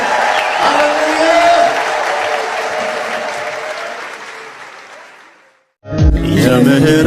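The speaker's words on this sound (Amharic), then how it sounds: "ጭብጨባ ለጌታ ክብራላችሁ።" A Protestant church congregation applauds in praise, loud and dense at first, then slowly fading over several seconds to silence before voices and music abruptly resume.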